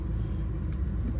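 A supercar pulling away in first gear with a bitey clutch: a steady, deep low engine rumble, close and continuous, with no talking.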